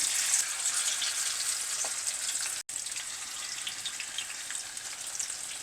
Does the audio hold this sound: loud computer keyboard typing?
no